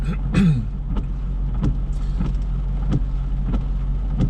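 Cars drive through Harnham Junction, a busy road junction, producing a steady, moderately loud rumble of traffic. Several vehicles pass one after another at a regular pace, with no one speaking.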